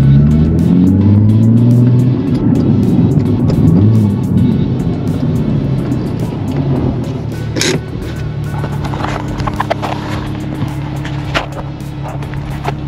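A Nissan 370Z with about 100,000 miles slows and pulls off the road. Its engine note drops from a revving drone to a low, steady idle, with light clicks and bumps from the car as it rolls to a stop.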